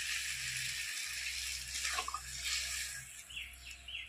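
Water is poured into a cooking pot of simmering gime greens with fried lentil fritters, a faint steady splash and trickle with a brief swell partway through and no talking.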